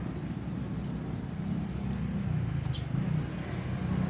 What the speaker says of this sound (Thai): กระดาษทรายขัดรูป